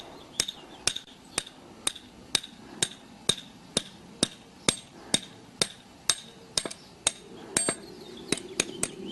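Repeated hammer taps on a part being seated over a threaded bolt, about twenty sharp metallic knocks at a steady rhythm, each evenly spaced, close and clear with no talking.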